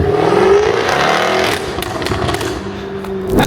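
Jaguar F-Type R coupe engine roaring loud and close, a sustained rising rev that eases off and then builds again toward the end, with no talk over it.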